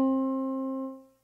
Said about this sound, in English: For reference, here's middle C.